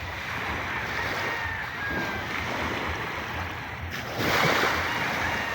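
Sea waves at Lemery, Batangas wash in steadily under strong wind buffeting the microphone, with a louder surge near the end and no talking.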